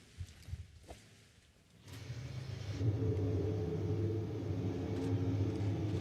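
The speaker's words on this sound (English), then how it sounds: "This sound, this engine that you're hearing, is the new 62 Evo engine, the new engine that we're going to have in the new car." Ferrari's new 062 Evo Formula 1 engine, built for the 2018 SF71H car, starts after a quiet moment and settles into a steady, loud, deep droning run with no voices over it.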